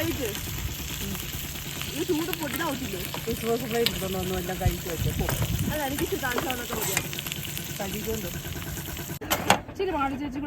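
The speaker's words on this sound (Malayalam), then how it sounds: "ഞങ്ങൾ ഡാലിന് കടുകൊക്കെ പൊട്ടിക്കുകയാണ്." Mustard seeds splutter and crackle in hot oil for dal at a roadside camp cook-up, a continuous frying sizzle with scattered pops and a clatter near the end, while people talk over it.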